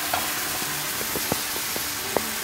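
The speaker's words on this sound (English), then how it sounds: "just let it sizzle for a couple of seconds" Wine sizzling in a hot pan with chicken frying for a carbonara, a soft steady hiss with a few small pops and stirring clicks.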